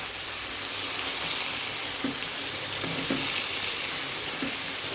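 Chicken being dry-fried (bhuna) in a pan over high heat for achari chicken, a steady broadband sizzle filling the whole stretch, broken by a few soft scrapes of a spoon against the pan.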